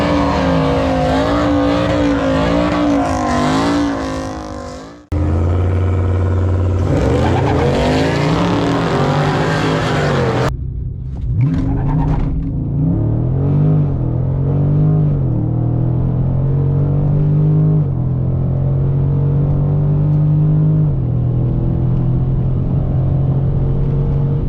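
A Dodge Charger launches hard down a drag strip at night, its engine roaring loud and close as it climbs through the gears with sharp shifts, then settling into a sustained high drone.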